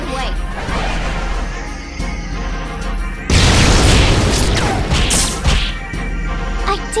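Fire spell explosion from the video game Shin Megami Tensei IV Apocalypse: a loud booming burst that crashes in midway and rolls on with crackling debris, with game voices shouting and music before it.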